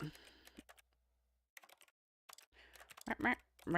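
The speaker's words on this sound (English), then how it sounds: "It sounds like typing" Keyboard typing in the video game The Stanley Parable: Ultra Deluxe, a faint scatter of quick key clicks in short bursts, with someone talking over the later part.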